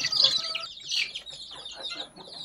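Chickens and small chicks at a local poultry farm cluck and cheep in a close, busy cluster, with high chirps overlapping short clucks throughout.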